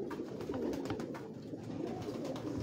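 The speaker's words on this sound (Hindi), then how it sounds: "भी ये अलफनों के कबूतर है" Pigeons on a rooftop in Lahore coo softly and continuously, layered throaty calls close by with no talking.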